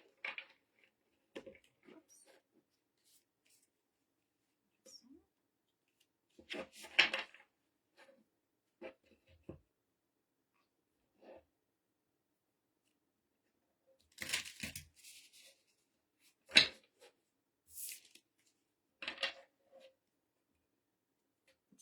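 Quiet, intermittent tarot card shuffling: scattered soft riffles and taps in short bursts separated by silence, close and low in volume.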